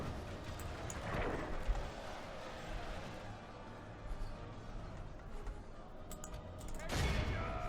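Ballistae shooting in a Divide & Conquer mod battle game, heavy thuds and booms scattered over a constant battlefield rumble, with a stronger impact near the end.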